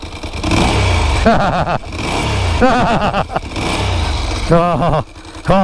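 A 2001 Ducati Supersport motorcycle with original pipes and a dry clutch revs close by in uneven bursts that rise and fall, while someone talks over the engine.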